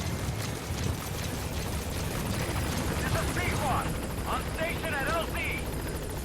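A helicopter in the video game Metal Gear Solid V throbs loudly and steadily throughout, with a voice talking over it partway through.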